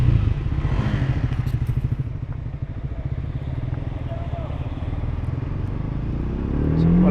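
A Triumph Speed 400 motorcycle engine runs close by with a steady, throbbing exhaust note that holds level throughout and swells louder at the end.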